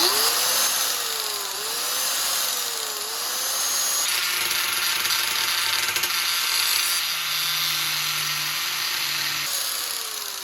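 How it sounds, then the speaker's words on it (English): Power tool grinding down the inner rib of a car body panel on a Nissan 350Z; a loud, continuous, close-up whine and rasp runs the full length with shifting pitch, alone without talk. "grind down the rib that's on the inside"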